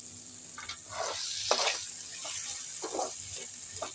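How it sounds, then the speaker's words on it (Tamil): Tomatoes frying down in oil until the oil bubbles and separates, with a soft close sizzle broken by bursts of bubbling and occasional stirring, quiet overall and without talk. "நல்லா சுருளாக வதங்கி அந்த எண்ணெயெல்லாம் தனியாக கொதித்து தனியாக பிரித்து வருது பாருங்க"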